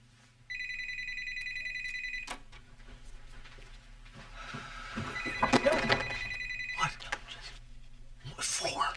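A telephone bell rings in repeated electronic bursts in a quiet indoor room, with a faint steady hum beneath and some shuffling and movement around it.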